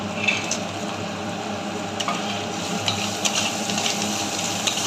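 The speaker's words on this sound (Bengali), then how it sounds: "মশলা ভাজা হয়ে গেছে" Spices frying in hot oil in a pan while a Bengali pumpkin-stem chachchari with prawns is cooked, giving a steady close sizzle throughout with a few small crackles, and no talking.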